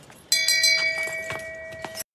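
A handbell rings steadily in a Game of Thrones scene, a bright metallic tone with repeated strokes over about two seconds, fairly close and clear with no talk.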